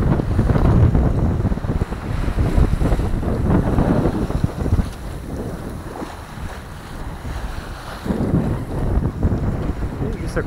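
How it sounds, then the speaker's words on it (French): A sailboat under full sail runs in a 12-knot wind, with loud, continuous wind buffeting the microphone and water rushing along the hull, surging and easing over about ten seconds. "On a 12 nœuds de vent."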